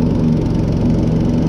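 Quad bike engine running steadily while mowing a lawn, a loud, close, continuous low drone with a rough mechanical rumble and no pauses.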